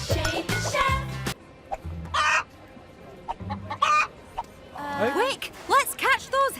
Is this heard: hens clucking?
yes